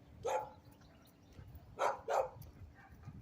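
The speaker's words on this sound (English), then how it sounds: "Somebody's dog is going." A dog barks three times outdoors, one short bark followed after a pause by a quick pair, at moderate distance over a quiet background with no talking.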